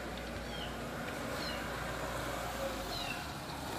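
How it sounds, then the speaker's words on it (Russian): A small kitten meows a couple of brief, thin times in a city park, somewhere close to a parked car's wheel, against steady outdoor background noise. "ну вот котенок, да"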